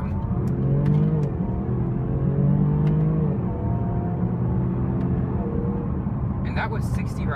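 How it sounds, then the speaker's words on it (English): A 2016 Range Rover Evoque SE Tech in sport mode with manual shift accelerating hard from a standstill, a steady droning engine note rising in pitch through the gears, with a brief rattle near the end. "pop it into sport mode, put it in manual shift, and we will go ahead and pull out here and put our foot down"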